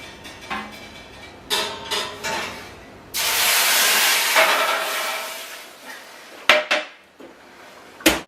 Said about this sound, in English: I've got a hot tray underneath, and I'm just going to pour some steam into that.